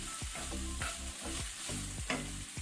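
Shrimps and carrots stir-frying in a hot pan, with a dense close sizzle and quick rhythmic scrapes of a spatula tossing them, no voices.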